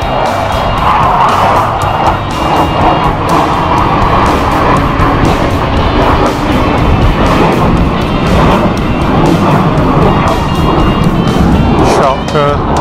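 Blue Angels jets roar overhead in upside-down formation at the 2015 San Francisco Fleet Week air show, a loud continuous rushing thunder filling the whole stretch while people talk excitedly nearby.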